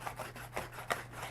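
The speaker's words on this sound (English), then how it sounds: "I just take some fine sandpaper and just clean that edge up a little bit more." Fine sandpaper rubs back and forth over the edge of an arrow outsert, giving close, soft rasping strokes in a quick rhythm of about three passes.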